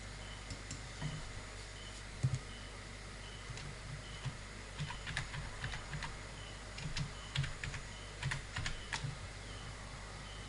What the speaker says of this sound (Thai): พิมพ์ชื่อภาษาอังกฤษ